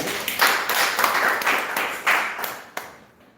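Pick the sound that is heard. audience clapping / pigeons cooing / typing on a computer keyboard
audience clapping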